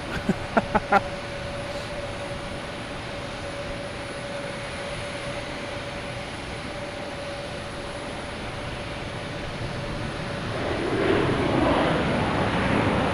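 A Delta Boeing 757 airliner arriving from LAX at Boston Logan Airport at night gives a steady distant engine rumble and whine, a few clicks at the start and a rise in loudness near the end.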